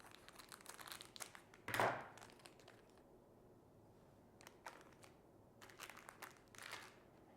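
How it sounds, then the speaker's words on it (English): Scissors cut through the plastic and paper packaging of a coin proof set, with a sharp crinkle near the start and several softer crackling snips later, quiet and close. "Let's cut it out and take a look."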